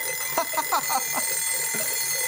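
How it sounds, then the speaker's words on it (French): Animated firefighter show scene with a ringing alarm clock: rapid repeated bell-like strikes over a steady electronic hum and background noise, fading toward the end. "Vous savez ce que ce bruit me rappelle? Un réveil."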